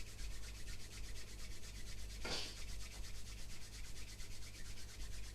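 Palms rubbed together in a steady, continuous swish during a Chen style health exercise, quiet and close with a soft brushing texture and no talking.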